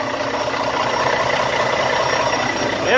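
A Volvo D13 diesel truck engine idles steadily after an oil change, a dense constant rumble with a fast mechanical clatter that holds level for three seconds and swells slightly at the very end.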